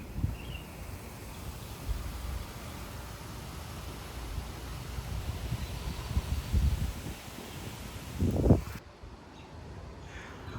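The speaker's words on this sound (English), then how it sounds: "Man, these winds are strong today. Yeah, these are like 35-mile-an-hour gusts." Strong outdoor wind gusts of roughly 30 to 35 mph in Frisco, Texas, roar as a steady, heavy rumble that buffets the microphone, swelling near the end and then dropping off sharply.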